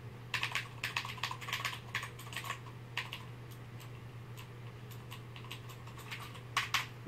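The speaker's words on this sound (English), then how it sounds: "just hitting the buttons, the resistance on the mechanical Cherry MX greens is still much lighter than your typical keyboard" A CM Storm Quickfire TK mechanical keyboard with Cherry MX Green switches clicks under steady typing, close and crisp, with bursts of rapid keystrokes, pauses and a low steady hum beneath.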